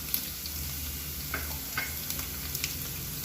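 Drumstick pieces tipped into hot oil with garlic for a Tamil-style poriyal, giving a steady close sizzle and frying hiss with a few soft stirring clinks.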